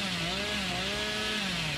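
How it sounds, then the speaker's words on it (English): A chainsaw revving in the video game Dead by Daylight, a loud, steady buzzing drone with a slight rise and dip in pitch, continuous and close for the whole moment with no talk. "Let me chainsaw from far and see what happens."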